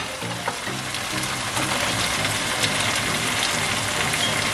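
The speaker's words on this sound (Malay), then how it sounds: "sambil-sambil kita gaul ni bolehlah masukkan sedikit serbuk kunyit" Turmeric powder being stirred into a pan of frying spices for a Malay stingray asam pedas, with a steady broadband sizzle and soft scraping stir sounds that stay close and constant throughout, with no speech.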